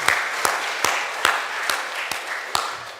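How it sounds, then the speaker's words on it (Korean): Church congregation clapping together at a Sunday worship service, a short burst of applause with several distinct sharp claps over a room-filling patter. "우리 다 같이 박수하면 어떨까요?"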